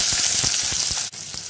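Small chopped onion pieces hit hot oil for a tomato drumstick kulambu, a loud close sizzle with a rapid bubbling crackle and a short dip partway through.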